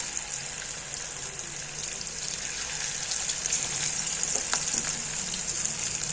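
Cabbage pakoda fritters frying in hot oil, a steady bright sizzle and crackle that runs unbroken throughout, close up with faint occasional pops and no voices.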